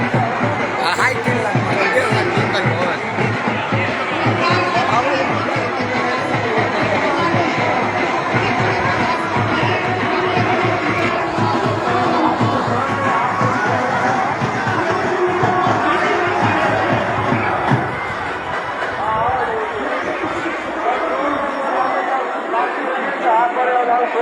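A vast crowd of about 150,000 at a Hanuman statue ceremony in Barahi village, where flowers are dropped from a helicopter onto the 104-foot idol, makes steady loud chatter and babble, fading out near the end.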